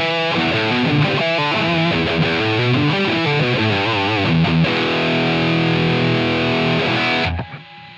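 Distorted recorded electric guitar part with background noise, a riff of rapid picked notes giving way to a held ringing chord that cuts off abruptly, leaving a faint hiss.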